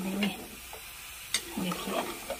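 Mutton korma being stirred and mixed in a pan, with soft scraping strokes and light sizzling heard close up, a few sharper clinks standing out.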